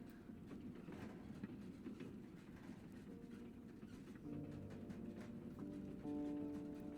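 Train running with a steady low rumble and rattle heard from inside a carriage, muffled and continuous, with faint tonal hum rising toward the end.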